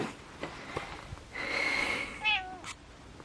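A cat meows with a rising, drawn-out cry, followed by a short second squeak, close by and fairly quiet, amid faint background noise.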